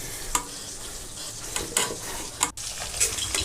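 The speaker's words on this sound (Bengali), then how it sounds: "আর এই যে এখানে 2 পিস স্লাইস দিয়ে দিচ্ছে ভাজার জন্য" Two slices of fish roe frying in oil in a pan at home, a continuous close sizzle broken by a few stirring clatters.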